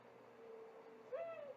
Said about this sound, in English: That's the mourning dove right there.